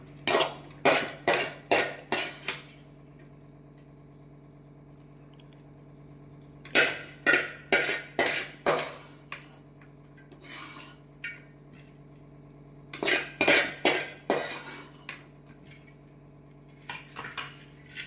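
Egg kothu chapati being scraped and moved onto a plate, a run of sharp clinking utensil strikes in three bursts separated by quieter pauses, with a steady low hum beneath.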